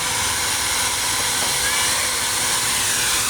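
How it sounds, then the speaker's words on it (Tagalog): A hair blower pushes hot air in a steady, loud, unbroken whoosh that fills the whole stretch without pause or change. "Mainit yung singaw ng blower."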